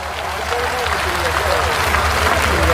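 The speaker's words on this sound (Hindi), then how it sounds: "एक बार सारो सदन हाथ उठाकर श्रद्धा की तालियां तेजा जी तक पहुंचावे" A crowd at a Tejaji temple program in Sangliya claps in dense, steady applause, with amplified voices and low hum underneath.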